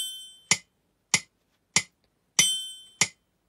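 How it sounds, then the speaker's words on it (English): Metronome on a Yamaha PSR-EW410 keyboard set to four beats: five sharp, clicky ticks at a slow, even pace, with one brighter accented click among them, close and alone with silence between. "which alters the beat of the metronome. So it's on four beats at the moment, so it'll sound like this."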